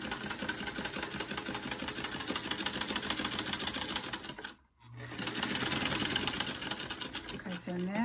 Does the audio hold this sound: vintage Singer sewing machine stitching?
yes